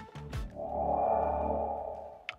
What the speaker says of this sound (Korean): 한번 시동 한번 걸어볼게요.